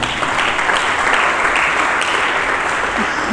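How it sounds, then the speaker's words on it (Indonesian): Sustained, dense applause from a church congregation during a sermon, steady and fairly loud throughout, with a faint voice surfacing near the end. "Mari kita berikan tepuk tangan."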